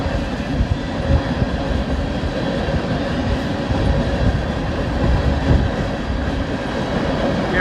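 A BNSF or Union Pacific freight train rolls past at Plattsmouth, Nebraska, with its DPU locomotive approaching, producing a loud, continuous rumble and rattle of wagons on rails with steady clatter throughout.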